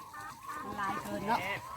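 Laying hens cluck on an egg farm in Laos, with soft, close, overlapping calls over a short stretch. A person talks nearby.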